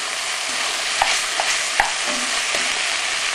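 Chilli con carne meat sizzles steadily in a hot pan while a utensil folds and stirs it, with a few sharp taps and scrapes over the continuous frying hiss, close up.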